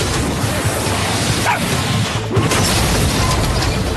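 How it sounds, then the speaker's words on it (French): A small cartoon dog barking, a couple of brief yips standing out against dense, loud background noise and music. "Un petit chien est en danger"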